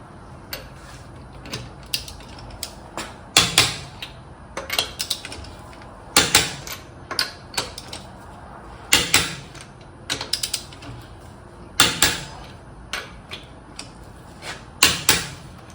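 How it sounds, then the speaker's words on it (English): Torque wrench clicking and ratcheting on the lug nuts of a 2021 Honda Ridgeline's wheels, with sharp metallic clicks and ratchet bursts coming in irregular clusters, close and fairly loud, with no talking. "now we're going to go around and torque all the lug nuts to 94 pound-feet"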